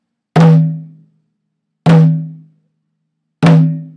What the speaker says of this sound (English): So your open hand's going to fall, hit an open tone just before your stick comes down and makes another tone.